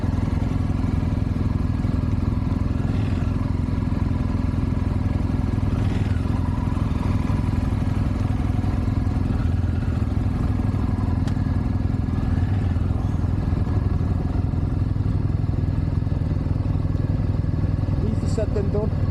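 Big adventure motorcycles in a forest are turned around and ridden off, their engines running steadily and loudly throughout while a person talks over the rumble.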